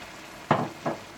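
Raw onions and finely chopped green chillies fry for a karahi masala for chops, two short sizzling bursts as the mixture is stirred in the pan, close and moderately quiet.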